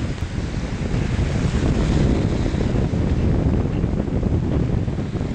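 Strong, steady storm wind in Bodrum, gusting up to 80 km/h, roars and buffets the microphone, with a broad rushing noise like surf beneath it, continuous and loud throughout.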